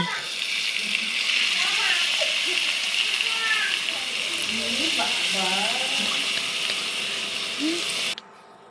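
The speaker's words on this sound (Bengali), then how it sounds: "দিয়ে দেব ম্যাগি, দিয়ে দেব পরিমাণ মতন জল।" Water pours steadily into a pan for Maggi noodles, a continuous broadband splashing that runs for about eight seconds and then cuts off, with a faint voice or background chatter underneath.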